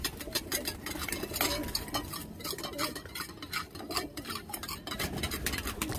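Alum is swirled and stirred in a small container of water, giving quick repeated clinking and scraping ticks close by, with faint pigeon sounds in the background and no talking.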